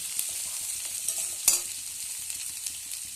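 Pumpkin pieces are stirred and fried in a pan, a soft sizzle under scraping spatula strokes and light clinks, fairly quiet and close with no talk.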